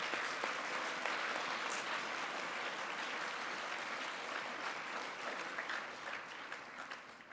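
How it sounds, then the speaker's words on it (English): A crowd at a Georgia Military College Mother's Day ceremony applauds the cadets, with sustained, even clapping from many hands that carries on throughout and tapers slightly near the end. "Please join us in a round of applause to all of these cadets for their outstanding achievement."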